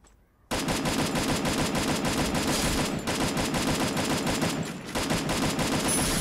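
Rapid automatic gunfire from a video game shooter bursts in after a brief quiet start and keeps hammering loud and nonstop, with a dense, even rattle of shots and a short dip midway.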